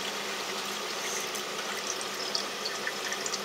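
A Hydrologic Stealth 300 water filter flushing and filtering gives off a steady, even rush of water at moderate level, with no voices and no change across the short span.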